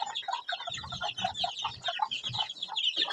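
Several chickens clucking busily close by, overlapping short calls in a steady stream with no voices.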